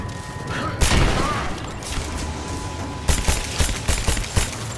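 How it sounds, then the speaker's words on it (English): Pistol in Rise of the Tomb Raider firing rapidly: a heavy boom followed by a fast run of sharp shots with echoing tails, over a dense game soundscape. "this pistol fires fast!"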